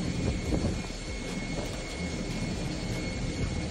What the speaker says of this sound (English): Here's the airplane.